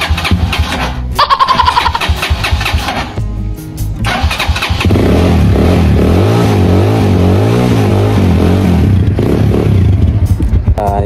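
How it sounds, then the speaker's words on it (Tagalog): A motorcycle engine starts with a clattering crank and catch, then settles into a loud, close, steady idle with a few rises in revs. "At ito yung motor natin."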